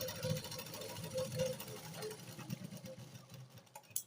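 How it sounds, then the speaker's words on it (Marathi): A sewing machine stitching a seam on a golden blouse piece, running in a quiet, steady rhythmic hum with repeating ticks before slowing and fading toward the end. "त्याला दाब शिलाई लगेच करून घ्यायची आहे."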